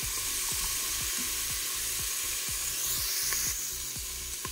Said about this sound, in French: j'ai mis mes échalotes ainsi que mon poireau à faire dorer, donc à dorer